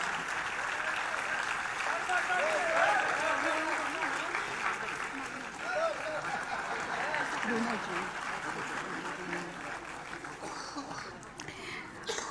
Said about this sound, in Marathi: टाळ्यांचा गजर जोरदार करूया.